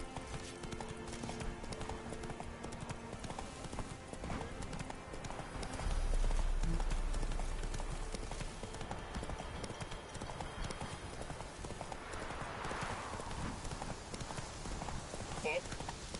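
Horse hooves clip-clop steadily on a trail in Witcher 3, the game horse Roach carrying the rider, layered under game ambience and music with talk in the background.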